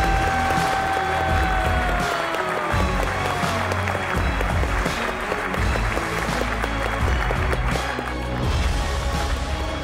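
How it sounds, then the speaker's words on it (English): Hackathon closing ceremony crowd applauds the winning teams, steady loud clapping under booming event music and a rising sweep effect, filling the hall throughout. "A warm round of applause."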